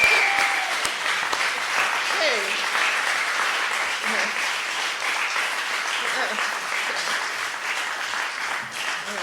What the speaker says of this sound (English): So let's applause again.